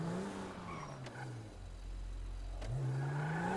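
An Audi car engine in the GTA video game hums steadily, its pitch dipping and then climbing again as it revs, with a low whir underneath throughout.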